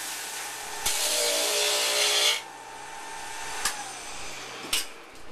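A lamination socket is sanded by hand with dull sandpaper, giving a loud, rough scratching stroke lasting over a second, followed by quieter rubbing and a few short scuffs, close to the listener.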